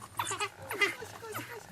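Wild dogs at a cheetah park safari make faint, high-pitched yelping chirps and squeaky twitters in a quick, uneven series, heard quietly at some distance.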